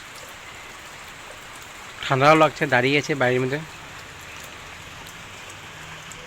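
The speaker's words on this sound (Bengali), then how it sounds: "বৃষ্টি পড়ছে, একদম ভালো লাগে না।" Steady rain falls outdoors in a town, a continuous close hiss throughout, with a person briefly speaking over it partway through.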